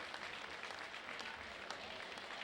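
Fans in the stands at a high school boys' basketball playoff game clap for an injured player being helped off the court, a steady, fairly faint wash of applause heard from a distance, with no clear voices.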